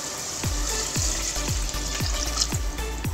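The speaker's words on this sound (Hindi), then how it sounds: "और इसमें पानी ऐड करेंगे।" Water poured into a pan of sizzling masala with green chillies, coriander and mint for Hyderabadi beef tahari, giving a steady loud frying hiss with a regular series of low thumps about every half second.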